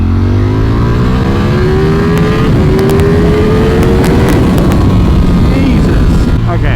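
A Ducati Panigale V4S motorcycle accelerating hard from around 60, its loud engine note climbing steadily through the gear, close and continuous with heavy wind noise.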